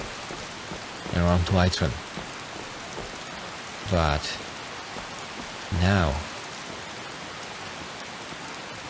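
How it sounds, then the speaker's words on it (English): Steady rain pours down in Skyrim near the city of Solitude, an even hiss throughout while someone speaks over it in three short bursts. "even considering this rain"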